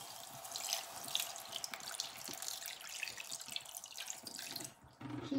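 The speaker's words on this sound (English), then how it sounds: "I'll add water." Water splashing and trickling into a pan of gluten-free dumplings on the stove, a continuous close pouring sound with small drips that stops abruptly near the end.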